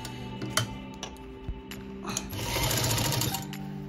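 Sewing machine stitching a baby bonnet close by: a soft, steady mechanical whirr with a few quiet clicks, running alone and growing slightly busier toward the end.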